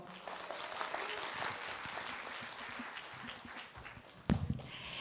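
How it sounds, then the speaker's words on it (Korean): Conference audience applauding a presenter at a SketchUp interior-design seminar, a faint, steady patter of many hands clapping, followed by a sharp nearby bump near the end. "여러분 다시 한번 큰 박수 부탁드리겠습니다"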